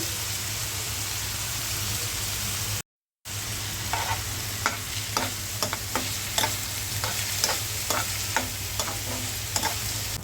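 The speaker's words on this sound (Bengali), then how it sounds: "করলাটা ভেজে নিলাম একদম তেলের মধ্যে ভাজা ভাজা করেছি" Home-grown bitter gourd (karela) fries in oil with no water, a continuous dense sizzle and crackle broken by repeated stirring scrapes, heard close with no speech.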